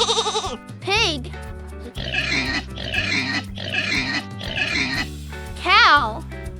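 A pig's snorting oinks come in a run of short grunts over a steady low musical backing, with a child-friendly voice briefly heard at the start and end.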